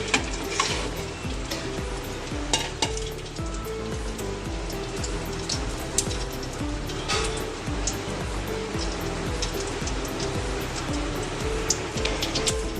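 Bay leaf, cloves, cinnamon and cardamom sizzle in hot mustard oil while frying potatoes for a Bengali cauliflower curry, a steady dense crackling hiss with scattered sharper pops throughout.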